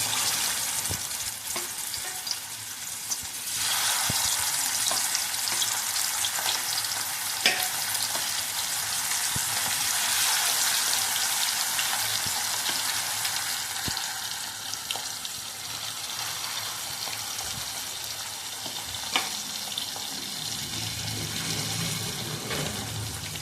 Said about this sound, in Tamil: இப்போ மீன் உள்ளே போட போகிறோம்.